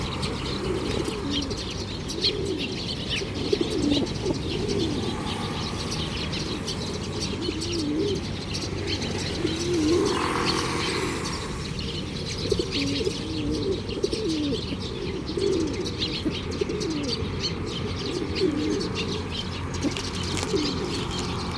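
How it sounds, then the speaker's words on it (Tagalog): Pigeons coo steadily while feeding in the rain, close and continuous, with soft chirps and occasional wing flaps over a constant patter of rain. "That's my birds."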